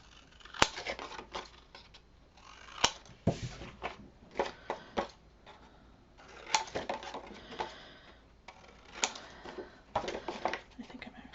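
Scissors snip repeatedly at close range while trimming pieces for a baby folio, a series of sharp, irregular cuts with short pauses between them.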